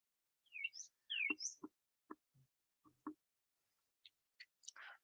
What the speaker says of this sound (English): right now we're just in the backyard, um, listening to birds, smoking a cigar.